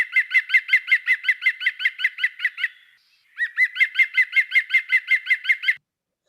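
A common nightingale sings a long run of rapid, evenly repeated loud notes, breaks briefly, then resumes with the same pulsing series, clean and close against silence.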